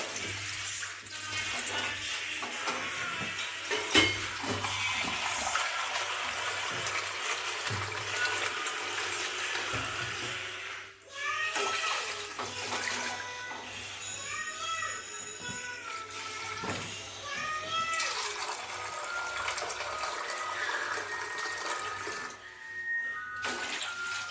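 Steady stream of water poured into a pan while making kesari, a continuous splashing rush running for many seconds with slight shifts in tone as the pan fills.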